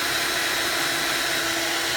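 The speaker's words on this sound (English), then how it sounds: "I'm gonna turn my mixer on." An electric mixer whirs steadily at close range, beating thick butter cake batter with added flour in one continuous hum.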